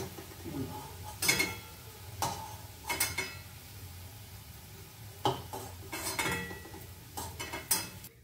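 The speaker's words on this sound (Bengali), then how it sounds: "এই যে ভাজা হয়ে গেছে, এবার আমি একটা একটা করে তুলে দিচ্ছি।" Fried raw banana koftas are lifted one by one from a frying pan, with a series of sharp metal utensil clinks and scrapes over a soft, steady sizzle of oil.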